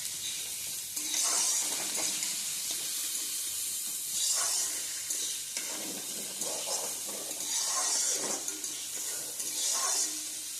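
Onion and mixed vegetables sizzle in hot oil for veg fried rice, with a steady frying hiss and repeated scraping stirs of a spatula every second or two, close and moderately loud.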